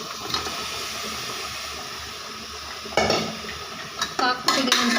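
Mutton pieces stirred into masala in a pan, a steady sizzle of frying with scraping and clinks of a utensil against the metal pan, louder bursts of stirring near the end.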